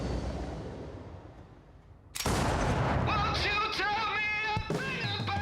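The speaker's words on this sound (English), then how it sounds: "give me the gunshot sound" A loud gunshot-like impact bursts suddenly from a Peaky Blinders episode, following a quiet rumbling stretch and followed by a sustained noisy roar with tonal streaks and a second sharp hit.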